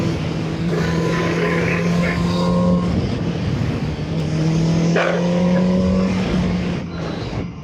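A Voge RR 500 S motorcycle engine holds steady high revs in 4th gear through corners, a continuous loud droning tone with slight pitch shifts and wind rush throughout.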